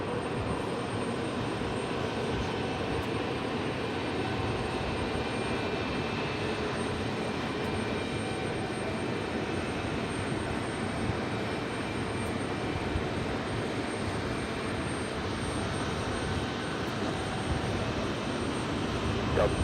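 A Lufthansa Boeing 747-400 taxis at JFK airport. Its jet engines give a steady, moderately loud rumble and whine that carries on unbroken throughout, with no voices over it.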